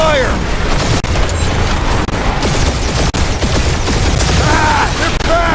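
Sustained gunfire and booming impacts from a battle in the Marvel's Guardians of the Galaxy video game, loud and continuous with sharp cracks, under shouted combat dialogue.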